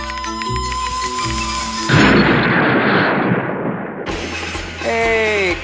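Fireworks go off in loud bursts with a crackling, booming barrage, mixed with tonal music and effects before and after, dense and close throughout.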